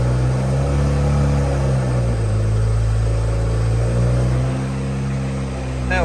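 A BMW E82's engine idles and hums steadily up close during a clutch test, a low continuous drone with slight pitch shifts as it settles, loud throughout with a faint click near the end.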